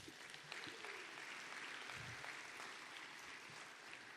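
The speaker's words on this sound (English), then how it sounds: "give yourself a round of applause" An audience at an October wildlife outdoor event applauds, a steady wash of clapping held at an even, moderate level throughout.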